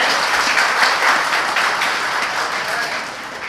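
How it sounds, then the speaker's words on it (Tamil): A crowd applauds, many hands clapping in a dense, loud burst that slowly eases off over a few seconds. "கஷ்டப்பட்ட செல்லி சாருக்கு எப்படி கைத்தட்டு கொடுக்கணும்"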